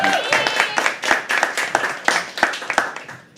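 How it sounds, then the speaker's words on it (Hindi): An open-mic poetry audience claps for a performer, sharp individual hand claps mixing into steady applause that gradually thins toward the end. "रजत के लिए प्लीज एक बार जोरदार ताली, प्लीज प्लीज"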